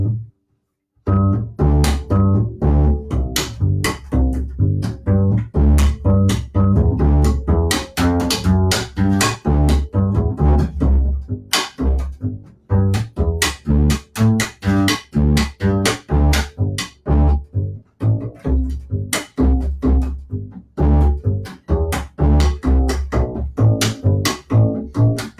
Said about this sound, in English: So here is a little bit of the bass,